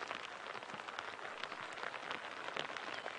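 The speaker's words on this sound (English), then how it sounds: "Here comes the rain a bit harder." Rain falls steadily and fairly hard during a sunrise safari drive, a dense hiss with scattered drops pattering on a nearby surface, no voices.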